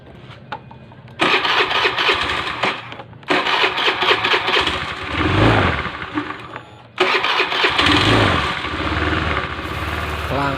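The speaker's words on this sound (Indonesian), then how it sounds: "coba hidupkan sambil kita cek olinya jalan apa enggak" A Honda Beat FI scooter engine, freshly reassembled after repair, is started with short cranking bursts before catching and running at a loud, close, rough idle with rising revs.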